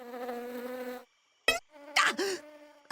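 Cartoon bees buzz in a sustained, tonal drone for about a second, then short buzzing bursts return after a pause, loud and close with no talk over them.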